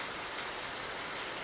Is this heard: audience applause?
no